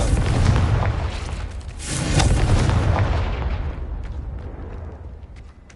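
Blasting curse explosions in the Hogwarts Legacy game, a loud rumbling boom with a second swelling blast about two seconds in, then a decaying roar with faint crackles as it dies away.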